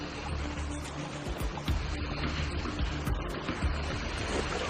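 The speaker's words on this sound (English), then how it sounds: "I can hear the sound of a small waterfall ahead." Small waterfall in a stream in snowy Norwegian wilderness, a steady broadband rush of falling water that sounds close and fairly loud, continuous throughout with no talk.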